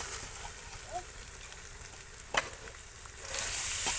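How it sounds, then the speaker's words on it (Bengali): Broiler chicken meat being sautéed in a pan for a village-style chicken kasha, a quiet steady sizzle with a sharp scrape of the spoon midway and a louder hiss toward the end. "এরকম করে ভালো করে মাংসটা কষাই নিচ্ছি"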